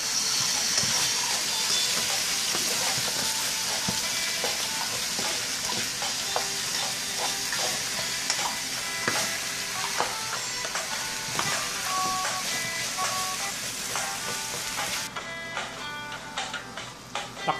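Onion and tomato frying in a pan while being stirred, for pork sinigang; a steady close sizzle with scraping and clinking of the utensil throughout.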